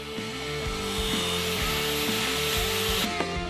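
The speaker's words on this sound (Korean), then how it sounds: "이렇게 선별한 목재를 정교하게 자르고 다듬어서 조립할 수 있게 만드는 것을 치목 작업이라고 합니다" Timber being cut and trimmed for a traditional hanok, a continuous, loud power-tool whine biting into wood, close by and with no talk.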